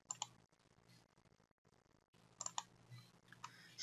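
Computer mouse clicks in a quiet room, a few sharp, faint, close clicks in two small clusters with light tapping between them and near silence elsewhere.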